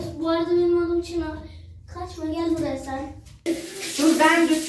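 Running water from a shower hisses steadily in the background while someone talks over it, washing a dog, then the flow grows louder and more splashy toward the end.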